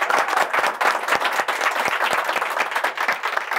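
A studio audience breaks into dense, steady applause for guest Cenk Tosun. Many hands clap close and loud, without a break, for the full few seconds.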